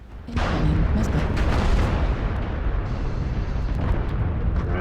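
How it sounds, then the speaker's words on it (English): Heavy explosions rock a mech combat game as an incoming missile strikes, a sudden loud blast followed by a sustained roaring rumble with crackling debris. "Critical damage. Incoming missile."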